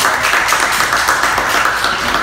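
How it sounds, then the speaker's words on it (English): A round of applause for the winner of a Pittsburg hotlink eating challenge, steady clapping from a small crowd held at an even level throughout. "Here's yourself a round of applause, y'all."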